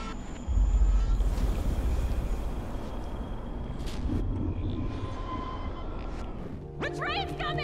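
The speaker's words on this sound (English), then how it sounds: "train's coming!" An approaching train in the video game Life Is Strange rumbles and rattles as a dense, loud rolling roar with whistle-like tones above it, while voices speak over the noise.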